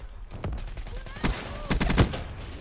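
Gunfire in the video game Black Ops 3, several sharp bursts of shots, some clustered into rapid volleys, heard beneath a player talking.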